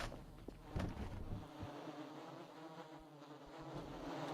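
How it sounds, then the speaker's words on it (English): Wasps in the Voices Of The Void game buzz as a close, continuous drone that wavers in loudness across the stretch, with a few low thumps near the start. "Yeah, I hear wasps."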